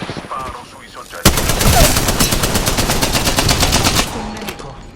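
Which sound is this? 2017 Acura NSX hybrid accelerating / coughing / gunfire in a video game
gunfire in a video game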